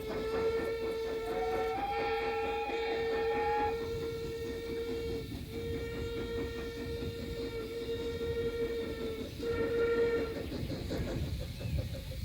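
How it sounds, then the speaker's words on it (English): A steam train enters Northiam station on the Kent and East Sussex Railway. Long, sustained whistle-like tones sound over a rumbling rail noise that stays fairly steady throughout. "this is the first train to enter the station"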